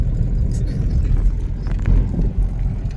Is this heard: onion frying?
no